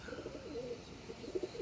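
A racing pigeon returning to its loft after a 61 km training toss from Paete, Laguna, gives soft, close, repeated low coos over quiet background noise.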